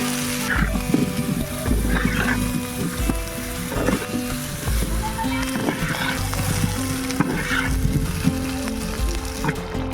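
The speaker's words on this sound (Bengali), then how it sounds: "আলুগুলো ভাজা করে নেব।" Potatoes fry in a pan for a village-style chicken curry, giving a loud, steady sizzle with frequent popping and occasional stirring scrapes. Faint background sounds sit under the frying.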